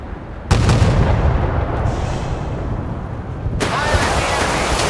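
Warship guns fire in the naval combat game Force of Warships, two heavy booming blasts about three seconds apart over a constant roar of sea and wind.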